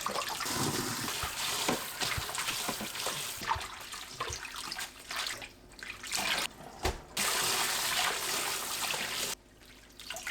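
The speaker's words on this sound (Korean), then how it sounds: "건토란대를 깨끗한 물로 두세 번 헹굽니다." Dried taro stems being rinsed in clean water, with steady running and splashing water throughout, brief sloshing bursts and a couple of quieter gaps, close and loud.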